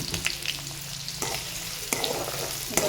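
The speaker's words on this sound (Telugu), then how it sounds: "ఇందులోకి కట్ చేసి పెట్టుకున్న ఆనియన్స్, పచ్చిమిరపకాయలు వేస్తున్నానండి" Chopped onions and green chillies fry in oil for paneer curry, a steady close sizzle with a few sharp spatula scrapes and clinks against the pan.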